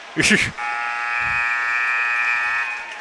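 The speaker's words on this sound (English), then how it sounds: "As the buzzer sounds on a very eventful second period" A loud, steady electronic buzzer blares for about two seconds, ending the second period of an ice hockey game, right after a brief burst of crowd noise, with arena murmur underneath.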